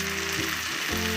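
Garlic paste and tomato puree sizzle loudly in a pan with browned fried onions, a dense continuous frying hiss, no talk.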